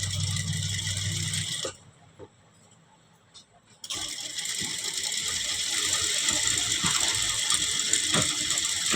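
A sewing machine stitches patchwork on a blouse back neck with a fast rattling mechanical whir, pauses for about two seconds, then resumes and keeps running at a steady pace, close up.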